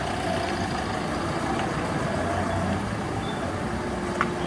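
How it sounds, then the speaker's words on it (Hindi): A Shatabdi bus running between Kanpur and Delhi reverses nearby at night, its engine a steady low rumble with a faint hiss of air brakes near the end. "वो देखिए बस बैक होकर के आ रही है।"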